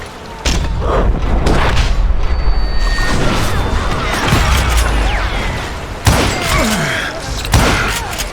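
Gunfire from the Call of Juarez: Gunslinger video game crashes out in a dense volley of loud, booming shots and thuds, with heavy blasts near the end and no talking.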